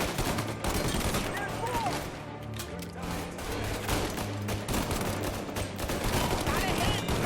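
Gunfire from the game Mafia Definitive Edition comes in dense, overlapping bursts of rapid shots that go on throughout, loud and close. Raised voices shout over the shooting at points.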